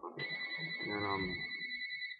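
A mobile phone rings with a bright, steady two-tone electronic ringtone that starts sharply and keeps sounding while a person talks over it at close range.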